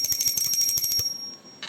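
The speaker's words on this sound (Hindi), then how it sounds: "अब घंटी बजाकर कर लेंगे आरती।" A hand bell rung for aarti worship rattles in a rapid, steady ring for about a second, then stops, with a short bright burst near the end; close and loud, with no talk.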